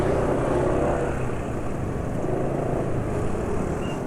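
A diesel car engine running on Unioil Turbo SAE 40 oil holds a loud, continuous idle rumble with no change in pace.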